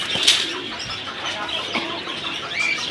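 Pigeons at a busy pigeon market in Jinjira bazaar, Keraniganj, Dhaka, with a burst of wing flapping near the start and soft cooing and calls amid steady crowd murmur.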